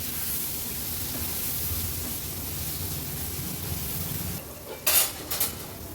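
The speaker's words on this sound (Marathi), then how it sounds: "टोमॅटो पण व्यवस्थित आपल्याला असा मिक्स करून घ्यायचा आहे।" Chopped tomato is stirred into a hot pan for egg fry masala: a steady, soft sizzle runs underneath, then a few sharp utensil scrapes and clinks near the end.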